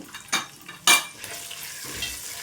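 Green chillies and a handful of dried red chillies, cut into small pieces, fry in a pan, giving a soft steady sizzle with two brief louder crackling bursts near the start.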